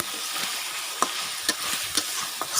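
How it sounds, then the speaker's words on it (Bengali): Pieces of fish sautéing in a pan, giving a steady hiss of frying oil broken by a few sharp spatula scrapes and taps at roughly half-second intervals, close up. "মাছটাকে একটু ভালোভাবে কষিয়ে নিব"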